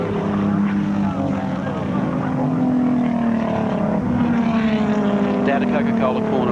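Touring cars at Symmons Plains in the 1991 Australian Touring Car Championship, engines droning and whining past at racing speed in a loud, sustained blur, with a commentator speaking over the noise.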